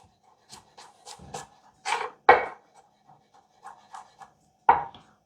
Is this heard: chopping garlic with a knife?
yes